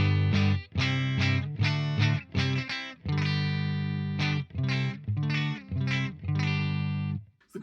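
Electric guitar runs through a Boss Waza BP-1w booster/preamp on its Chorus Ensemble setting, playing sustained, shimmering chords and a few quick strummed stabs, loud and continuous, with no voice over it.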